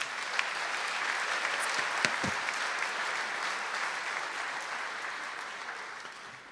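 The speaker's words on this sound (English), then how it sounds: "Give yourself a warm round of applause." A graduation audience at an agrisciences ceremony breaks into steady, sustained applause that fills the hall, a dense wash of many hands clapping at even loudness before tapering slightly toward the end.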